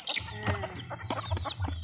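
Domestic village chickens kept at a home cluck close by, a series of short, uneven clucks and squawks with brief gaps between them.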